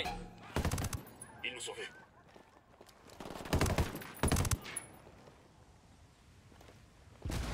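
Bursts of automatic gunfire in a Ghost Recon Wildlands firefight, loud volleys separated by quieter gaps, with someone speaking French briefly between shots.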